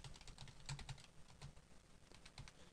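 Irregular bursts of keystrokes on a computer keyboard as a bank branch name is entered into accounting software, close and fairly quiet, with no one speaking.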